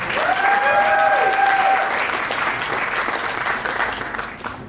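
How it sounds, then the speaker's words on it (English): Audience at the 10th Australian Muslim Achievement Awards show applauds loudly and steadily, a dense wash of clapping with a brief whistle near the start, slowly fading toward the end. "Can we give them a big round of applause, please?"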